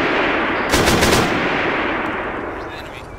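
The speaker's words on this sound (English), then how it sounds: "Prepare for firing down the road, guys. Snipers. Okay, fire, all open fire." A squad in ArmA 3 opens fire down a road, with loud, dense automatic gunfire and overlapping bursts washing into a continuous roar, close and heavy, with a brief sharper volley early on.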